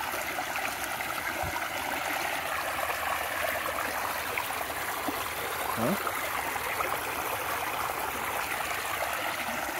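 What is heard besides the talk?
water splashing on Xero Terraflex II hiking shoes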